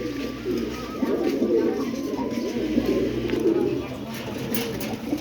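Gola pigeons coo continuously at close range, a low rolling chorus of throaty calls with muffled background voices.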